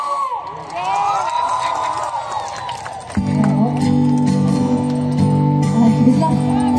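Supporters at a political kick-off rally cheer and shout as a crowd, a sustained roar that swells sharply midway and stays loud, with steady tonal sound joining underneath.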